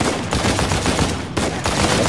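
Rapid bursts of gunfire from a PS4 shooter, Uncharted 4, with steady overlapping shots and a short gap near the middle, loud and close throughout.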